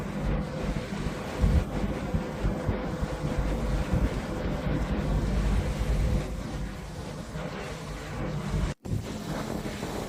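A low, continuous rumble of a thunderstorm on the water at St. Petersburg, Russia, with heavy wind buffeting the microphone, a steady roar throughout and a brief dropout near the end.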